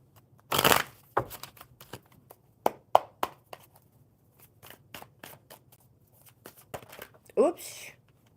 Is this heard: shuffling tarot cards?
yes